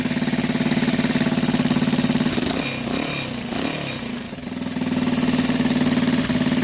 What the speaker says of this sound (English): Just got a little chuff every now and again